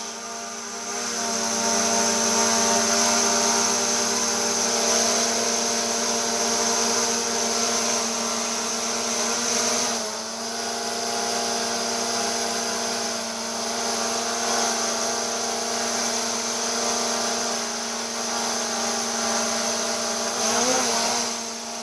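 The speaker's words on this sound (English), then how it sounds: "As you can see, the drone is working nice." DJI Mini 4 Pro drone running after an arm axis replacement, its propellers giving a loud, steady high-pitched whine close by that holds for the whole stretch with only brief dips.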